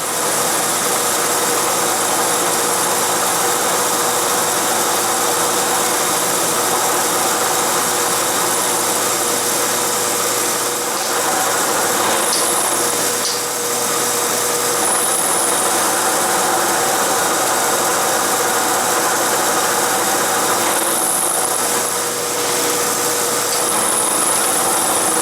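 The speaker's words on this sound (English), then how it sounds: "I've got a 3/16 end mill, and I need to carve out a 6mm wide and 6mm deep slot for the magnets" A 3/16 end mill cuts a 6mm wide, 6mm deep slot for magnets in a chuck stop, giving a loud, steady machining whine with a constant motor hum and no talk throughout.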